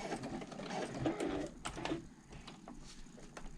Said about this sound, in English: I've sewn up the edge of the pocket here, top stitched up that edge